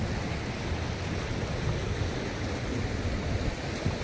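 A large waterfall roaring as a continuous broadband rush of falling water, steady and fairly close with no talking.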